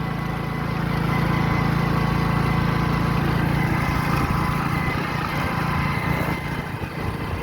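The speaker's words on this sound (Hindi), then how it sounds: "हम लोग बाइक से हैं, 2 आदमी हैं।" A motorcycle engine drones steadily while carrying two riders along a canal road between villages, with a continuous loud, close hum and wind rush and no talking.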